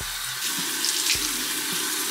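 Tap water runs steadily into a bathroom sink, a continuous close splashing hiss with a few soft thumps, no talking.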